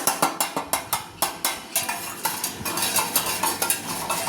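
A spoon stirs lime juice in water to form a whirlpool, clinking against the glass in a quick, steady rhythm of sharp taps, close and clear with no talking.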